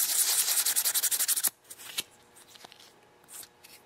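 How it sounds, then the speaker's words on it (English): A leaf blower carburetor top is rubbed clean with 600 grit sandpaper in quick, rhythmic rasping back-and-forth strokes, loud and close, then it stops abruptly and only a few faint scrapes and taps follow. "just basically rub it, and it'll come nice and clean. Don't push too hard because you don't want to scratch the top of the carb too much"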